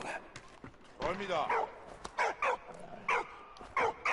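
Sharp, yipping barks from a dog in the World War I game Valiant Hearts come in several short bursts, close and fairly loud, alongside someone speaking.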